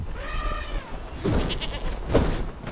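Little goats in Conan Exiles give brief wavering bleats, with one clear cry early on and fainter calls after it, over steady background noise.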